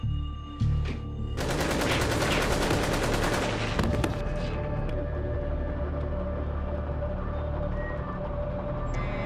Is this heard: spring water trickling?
no